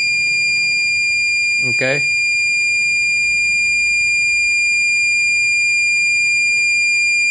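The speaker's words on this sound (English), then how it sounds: "The beeping noise means the key is working properly." A BMW EWS key test gives a single short electronic beep burst near the start, under a constant high-pitched tone, with a brief spoken word nearby.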